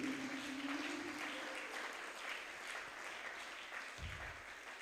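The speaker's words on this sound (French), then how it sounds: "Acclame le Seigneur Jésus." A church congregation applauds through the whole stretch, a steady, dense wash of clapping that stays fairly even and somewhat distant, with a brief low thump near the end.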